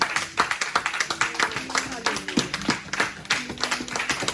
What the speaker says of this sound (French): ça mérite un applaudissement aussi